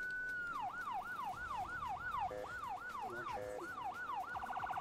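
Ambulance siren in the video game Emergency 4, Jackson County Fire Mod, a repeated falling wail cycling steadily about twice per second, then switching to a rapid yelp at the end, clear and fairly close with no voices.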